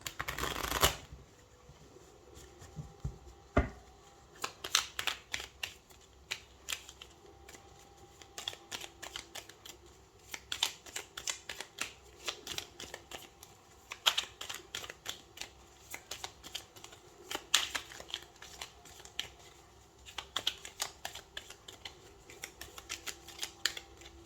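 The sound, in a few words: shuffling tarot cards for a reading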